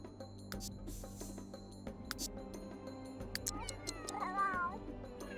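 Several cats meow and caterwaul in The Sims 3, with faint, scattered calls rising into a clearer, wavering meow near the end over soft game ambience and clicks.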